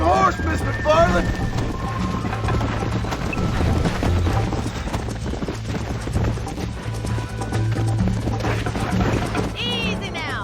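Hooves of a horse in Red Dead Redemption clop steadily in the foreground over a low game ambience, with voices speaking over them at the start and end.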